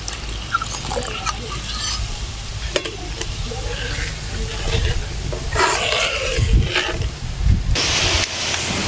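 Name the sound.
mustard and poppy seed paste starting to boil in pan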